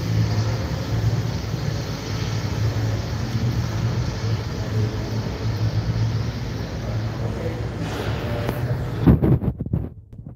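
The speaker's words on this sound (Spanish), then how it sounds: "Aquí ya nada más se escucha el puro tráfico" Passing car traffic on a road outside a gym, a steady, moderately loud rumble of engines that swells briefly near the end, with no clear talking.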